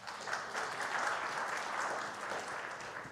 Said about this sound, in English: Can we give a hand clap to Karen?